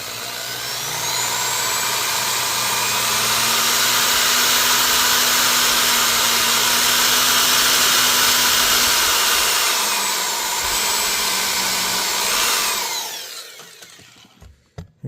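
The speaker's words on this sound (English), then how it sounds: "so you want to drill, a pilot so these don't tear the wood up and split everything up." A length of stainless TIG wire chucked in a drill bores pilot holes into the wooden body of a handmade Aronson Telecaster guitar, giving a steady high, whining motor drone for about thirteen seconds before it spins down and stops.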